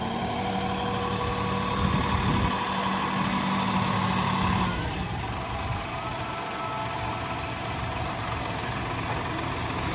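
A Hangcha forklift's diesel engine idles steadily at close range, a constant mechanical drone with a faint rattle, running alone without any talk.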